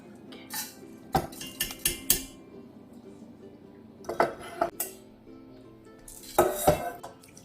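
Soaked rice and water going into a cooking pot (sot) for a temple-style mushroom and shepherd's purse rice dish: scattered close metallic clinks, knocks and scrapes against the pot in short bursts with quiet gaps, no talk.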